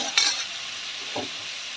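Mutton frying in a pan, a spoon scraping and stirring with a bright clatter at the start and another scrape a second later over a steady close-up sizzle.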